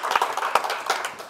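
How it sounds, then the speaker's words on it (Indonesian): Handful of people clapping for Johan, a brief, uneven patter of separate claps, fairly close and moderately loud. "Tepuk tangan dong buat Johan"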